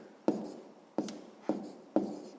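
A pen writing an answer on paper during a math exercise, with four evenly spaced scratchy strokes about half a second apart, close and fairly soft, with no voices.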